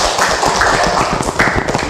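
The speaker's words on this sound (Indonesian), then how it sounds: "kita kasih tepuk tangan." Students in a classroom give a short round of brisk hand clapping, a dense patter of claps that holds steady for under two seconds.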